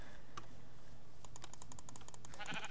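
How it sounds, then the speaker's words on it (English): Sheep in Minecraft bleat faintly in a short burst near the end, over a low steady background with light clicking. "I found some sheep."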